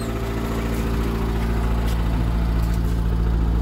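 A repaired Fiat Uno's engine runs at a steady idle, close and continuous, with a low rumbling hum and no voices over it.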